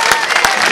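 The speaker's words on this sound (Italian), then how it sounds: "facciamo un applauso a questi ragazzi per iniziare" A crowd at a youth football club's season presentation breaks into a short, loud burst of applause, dense clapping mixed with crowd noise and a voice.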